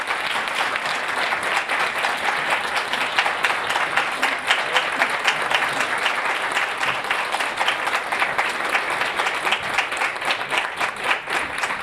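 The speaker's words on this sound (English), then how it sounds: "give Mayor Frank Scott another round of applause" A large audience at a 2020 Census summit applauds steadily in welcome for Governor Asa Hutchinson, a dense, sustained wash of clapping from many hands that continues evenly throughout.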